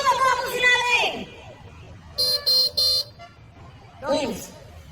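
Car horns honking on a Brazilian street: three short, loud blasts in quick succession mid-clip, with voices talking before and after.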